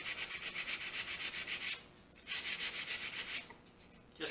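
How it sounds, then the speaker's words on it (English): Quick hand sanding of a bourbon barrel shelf plug with 220 grit sandpaper, two rapid bursts of soft, rhythmic back-and-forth rasping separated by a brief pause, close and fairly quiet. "I'm just going to hit it real quick with 220 grit sandpaper."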